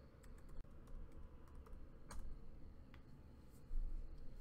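Quiet, close typing on a computer keyboard, with a steady run of uneven light key clicks and occasional sharper taps.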